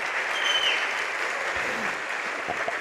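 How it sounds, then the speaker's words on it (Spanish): A church congregation applauds during a Spanish-language service, a steady, full sheet of clapping filling the room for nearly three seconds with a brief faint whistle early on. "Un aplauso para el Señor."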